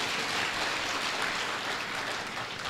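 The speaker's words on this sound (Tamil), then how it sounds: "7 பேர் கைதட்டுறீங்க" An audience at a Tamil comedy debate held at a book fair breaks into steady, continuous applause, a dense wash of clapping from a hall crowd with no talk over it.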